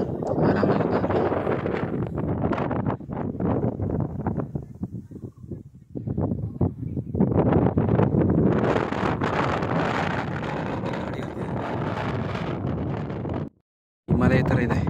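Strong wind sweeps across the Kabbe hilltop in Coorg, roaring and buffeting the microphone in gusts that swell and dip, with a brief dropout near the end.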